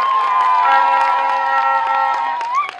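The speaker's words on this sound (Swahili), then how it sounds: "Wazazi jipigieni makofi katika hilo." Parents gathered at a school classroom handover ceremony cheer loudly with sustained, bright, overlapping voices and scattered claps. The sound is close and dense, easing off slightly at the end.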